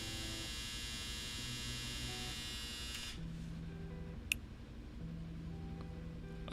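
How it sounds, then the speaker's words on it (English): A household clothes dryer runs steadily with a constant mechanical hum and buzz, a dense drone that stops partway through, leaving a lower background hum and a single brief tick. "my dryer."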